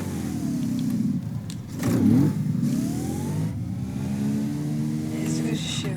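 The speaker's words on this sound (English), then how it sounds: "It's a good sheer amount of engine power." A car engine revs up and falls back in several rising and falling pulls, loud and close, while someone talks over it.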